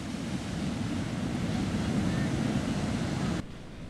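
Large ocean waves surging onto Ngiro Boyo beach in Pacitan, East Java, a broad steady roar of surf with wind noise, loud and continuous until it drops off abruptly near the end.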